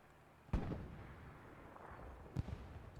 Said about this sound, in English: First explosions.